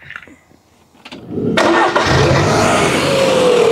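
A long-unused MG ZS barn find car cranks and fires into life about halfway through, its engine then running loudly and steadily close by, with a faint rising whine toward the end.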